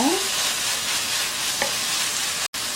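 Minced garlic and fish cake stir-fry in a hot pan, giving an even, loud sizzle with a faint stirring scrape partway through and a sudden brief dropout near the end.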